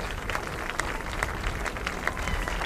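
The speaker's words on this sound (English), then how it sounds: "You hear the applause by everybody behind us there" Spectators applaud as an autonomous Ford Escape Hybrid crosses the finish line of the 2007 Urban Challenge outdoors, a fairly faint, distant spatter of clapping over low background rumble.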